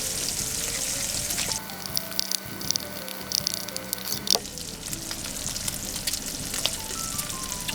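Bacon frying in a pan, a dense steady sizzle and crackle with scattered pops and spits throughout, close and fairly loud, with faint clinks of a utensil partway through.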